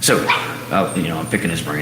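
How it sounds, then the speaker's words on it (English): Dogs shut away during neighborhood fireworks give short yips and barks that overlap someone talking close to the mic. "If you hear the dogs barking, I got them put up, because the neighbors are popping off fireworks"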